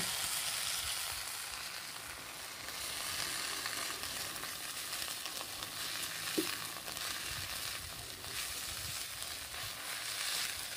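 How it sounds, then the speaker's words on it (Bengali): Mustard flowers frying in hot mustard oil in a kadai, a dense, even crackling sizzle that carries on throughout, close but fairly quiet, with one faint knock and no speech. "তেলটা গরম হয়ে গেছে, এখন ফুলগুলো দিয়ে 2-3 মিনিট একটু নেড়ে চেড়ে নেব।"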